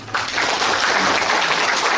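An audience at a Jeollanam-do education development forum claps continuously, a dense, steady patter of many hands at moderate loudness that begins abruptly and runs to the end without talk.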